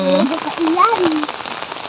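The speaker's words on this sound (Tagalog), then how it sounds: "Ulan talaga oh." Steady, heavy rain pours down in a dense, even hiss close by, with a person's voice speaking briefly over the downpour.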